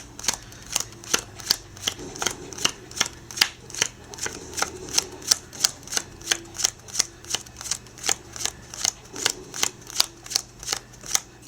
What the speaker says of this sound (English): So I'll start dealing right now.